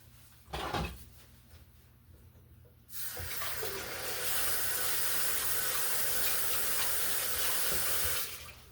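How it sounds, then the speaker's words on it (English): A kitchen tap runs as something is rinsed off: a brief knock early on, then water gushes on and splashes steadily into the sink, loud and close, cutting off near the end. "let me rinse this off"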